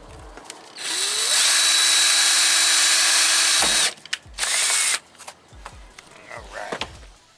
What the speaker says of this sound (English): So I'm gonna drill the holes for right here for this one.